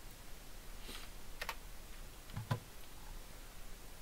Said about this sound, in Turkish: klavye vuruyor da olabilirim